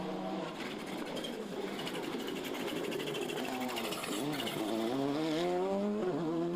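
Rally car on a gravel stage of the Clonakilty Hotel West Cork Rally, its engine note rising and falling steadily as it drives through, with commentators talking over it.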